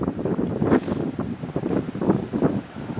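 Wind gusting across an open golf course, a steady blustery rush with surging peaks and rumbling buffets against the microphone, with no talk.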